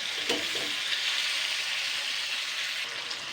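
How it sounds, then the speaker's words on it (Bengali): Chopped tomatoes fry with drumsticks and potatoes in a pan, giving a steady close sizzle with a few brief stirring scrapes near the start. "আর যে কেটে রাখা টমেটোগুলো আমি দিয়ে দিচ্ছি"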